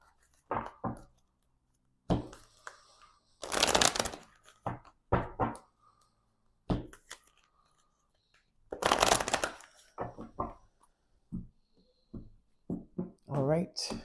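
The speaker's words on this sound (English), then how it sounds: "3 shuffles for these cards as well" Tarot cards being shuffled three times in two bursts of dense riffling, set between brief taps and handling sounds with quiet pauses.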